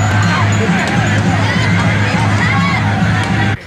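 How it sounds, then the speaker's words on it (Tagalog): Riders on a roller coaster stalled on the track in Subic scream and shout together, a loud continuous crowd of panicked voices at a distance, cutting off abruptly near the end. "sigawan na ang maririnig mula sa mga nakasakay"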